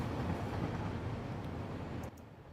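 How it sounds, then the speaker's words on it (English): Trains in the Satisfactory factory-building game roll past as a loud, dense rumble that fills the sound, then drops away abruptly near the end. "My trains are very loud."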